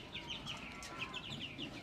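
Chickens clucking on a home balcony where pigeons and doves are also kept, a run of soft, repeated clucks and short chirpy calls over a low background hum, fairly faint and close.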